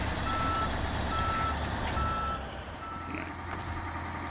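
Truck reversing alarm from the Snow Runner video game in the Zurdania region on PS5, a steady series of beeps over a low rumbling engine idle, loud and close with no talking.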